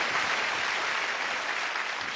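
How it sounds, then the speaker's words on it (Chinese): A studio audience on a television job-seeking show gives brief, even applause, a steady close wash of clapping without speech. "给你掌声。"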